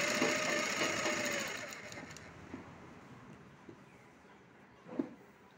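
A sewing machine stitches a blouse with a pa neck, a fast close mechanical whir that runs for about two seconds, then slows and stops, followed by a few light clunks.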